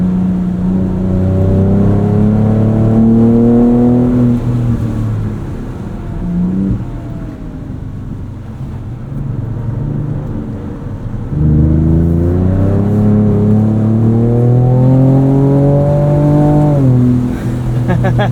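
A 2024 Ford Ranger Raptor drifts on a track, its engine loud and close as it revs up through rising gears, eases off, then climbs hard again with tire scrubbing.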